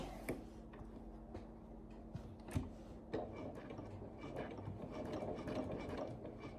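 Sewing machine running a short burst of stitches on a Christmas tree quilt, a steady mechanical whir with faint ticking, fairly quiet and close.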